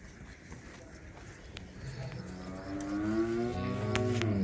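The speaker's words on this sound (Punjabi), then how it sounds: "ਇਹ ਗਾਂ ਚੈੱਕ ਕਰੋ ਜੀ।" A cow on a farm lets out a deep, drawn-out moo that rises from faint livestock shuffling and grows louder and nearer toward the end.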